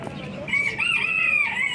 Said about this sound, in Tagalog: But bantam chicken and guinea fowl